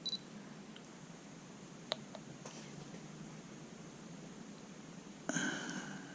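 Camera shutter firing for a long exposure during toy photography, a sharp click that opens and later a second clack closing it, amid quiet room hiss with a few faint ticks.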